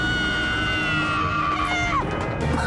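Cartoon characters screaming loudly and continuously in an animated show, a dense shrill wall of voices with crashing noise, steady throughout with no pause.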